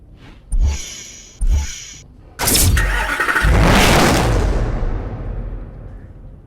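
Dodge Viper engine in the racing game Need for Speed Hot Pursuit: two short loud bursts, then the engine starts and revs hard, a close, roaring surge that slowly fades away.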